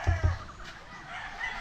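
Chickens on a cold, cage-free poultry farm with breeding pens give two short low clucks near the start, followed by a steady airy hiss of farmyard background with no voices.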